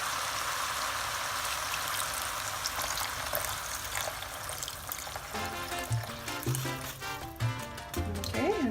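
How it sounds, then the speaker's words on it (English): Water pours steadily into a pot of rice for Spanish rice, a continuous splashing rush that later breaks into bubbling and clinks, with a voice speaking briefly near the end. "So now I'm gonna add 4 cups of water."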